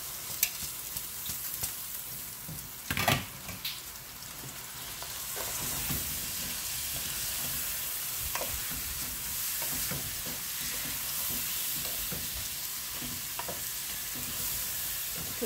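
Washed rice with bay leaves added to a hot frying pot for vegetable khichuri, a sharp splash of sizzle followed by a continuous hiss and repeated scraping stirs up close.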